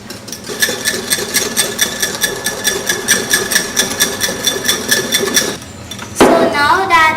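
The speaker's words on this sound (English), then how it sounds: "what you have to do with this is whisk it until it's pale in color" Egg yolks and two tablespoons of sugar are whisked briskly in a bowl: rapid, evenly spaced metallic clinks of the whisk against the bowl's side, loud and close, with a brief voice at the very end.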